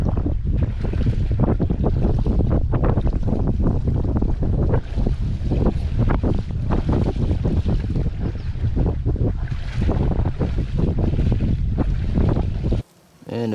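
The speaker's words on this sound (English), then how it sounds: "The wind has just gotten so strong that I have had no choice but to take off my hiking boots, strap on the waders" Strong wind roars loudly and continuously over water while a canoe is dragged through the shallows of the Canadian wilderness, with splashing bursts under the gusts and a brief drop near the end.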